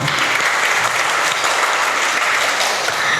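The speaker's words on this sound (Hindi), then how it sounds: "तो इसी बात पर सभी ठोको तालियाँ" Loud, sustained applause from a crowd at a stand-up comedy show, dense and continuous clapping throughout.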